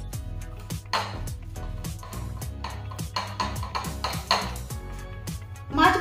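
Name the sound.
mixing fish pieces with salt and turmeric in a dish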